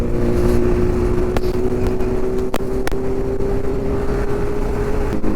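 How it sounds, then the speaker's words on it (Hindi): A BMW S 1000 RR superbike engine drones loudly and steadily during a street ride, with a few sharp clicks and pops punctuating the steady roar. "ये जा रही भाई मेरी ड्रीम बाइक।"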